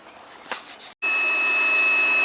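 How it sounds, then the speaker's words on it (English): An induction heater heating seized bolts on a 1997 Detroit Series 60 diesel engine gives a loud, steady high-pitched electrical hiss and whine that switches on abruptly after a brief silence and holds constant, with no talking. "I'm going to have to use this tool here, this induction heater, and heat up those bolts to get them off."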